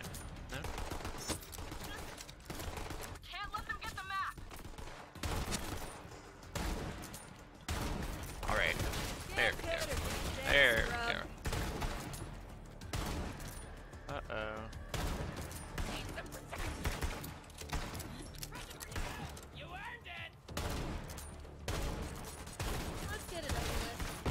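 Gunfire in the Borderlands 3 video game: dense, continuous bursts of shots and effects across a busy battle, loud and close, with someone talking over it.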